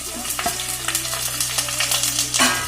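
Onion, ginger, curry leaves and green chili sizzle and fry in hot oil for egg gravy, with steady crackling and a few stirring scrapes of a spoon in the pan, close and fairly loud.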